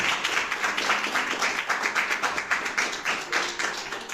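Congregation in a church clapping steadily and loudly in dense, continuous applause, with no voices over it.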